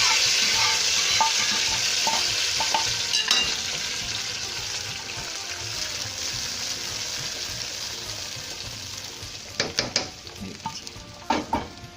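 Hot tempering (baghar) is poured into oil for haleem, giving a continuous sizzle with stirring scrapes, and a few sharp utensil clinks near the end.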